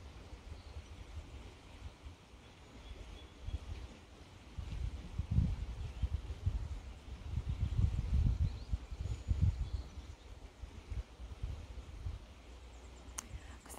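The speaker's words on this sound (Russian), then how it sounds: "Под соснами сидеть, слушать реку." A river flowing past, heard from a seat under pine trees at a Canadian ocean getaway, a steady soft rushing wash with low swells of water noise and no talk.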